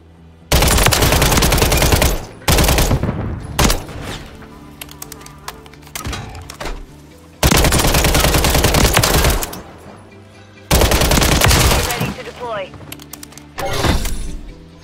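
Loud bursts of automatic gunfire from a gun in Modern Warfare 3 Search and Destroy, several long sustained volleys with short pauses between them, close and dominant, with a voice talking in between.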